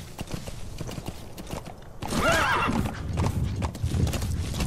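A horse in the video game Metal Gear Solid 5: The Phantom Pain clip-clops with steady hoofbeats, then lets out a loud, close whinny midway through. Game ambience sits underneath and no one speaks.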